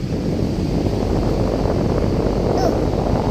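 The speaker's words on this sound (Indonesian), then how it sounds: "angin yang kenceng banget." Strong gusty wind blowing through trees, heard as a loud, continuous rushing roar with buffeting against the microphone throughout, with no clear talk.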